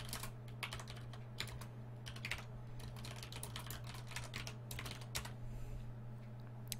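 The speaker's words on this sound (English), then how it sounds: "In case you guys wonder why I'm typing out to Mikey" Fast bursts of typing on a computer keyboard clatter close by in irregular runs with short pauses, over a steady low hum during a Mass Effect 2 playthrough.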